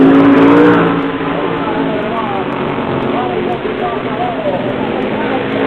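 Race car engines roar on a dirt track, a loud, sustained engine drone that surges at the start and then holds steady, with a voice heard at the beginning.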